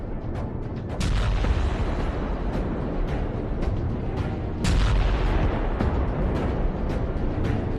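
Indian army artillery and gunfire at the Line of Control: loud booming blasts and sharp cracking shots, with two heavy booms standing out among scattered rapid reports over a rumbling background.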